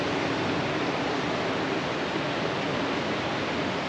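Steady, even wash of sea surf breaking on a beach in Cancun, continuous broadband noise with no distinct individual waves, fairly close and alone without voices.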